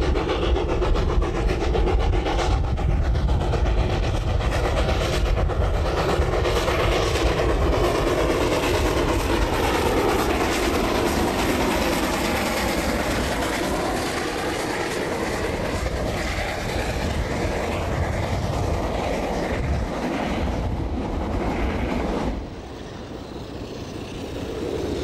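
A train runs along the line back to Auckland with a loud, continuous rumble and clickety-clack of wheels, fading somewhat near the end, with no one talking.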